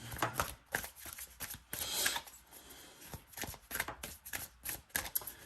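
Tarot cards rustle and riffle in quick repeated bursts, a soft continuous shuffling close by with no talking.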